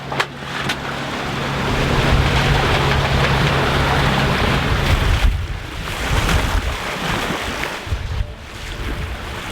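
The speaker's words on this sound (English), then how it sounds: "so that's why we have quite some waves here" Waves wash and surge around a sailboat crossing the Sea of Hebrides toward Barra, a loud continuous rush of water and wind noise that swells and eases with no talk.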